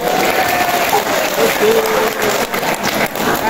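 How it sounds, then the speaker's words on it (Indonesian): Loud, close applause from a crowd of religious brothers and sisters at a consecrated life celebration, steady clapping throughout with voices audible in the mix. "Tepuk tangan untuk kita semua."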